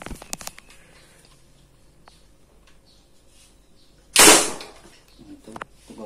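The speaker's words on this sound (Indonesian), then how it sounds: "Saya akan tes tembak." A homemade PVC pipe gun fires once in a test, a single loud sharp burst of air noise, close by, after a few small clicks and handling taps in a quiet setting.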